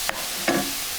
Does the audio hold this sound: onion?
yes